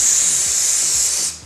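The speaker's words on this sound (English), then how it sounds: "So I'm just going to spray this now" Hairspray from an aerosol can is sprayed onto hair while styling a sleek low ballroom bun, a steady close hiss lasting over a second before cutting off.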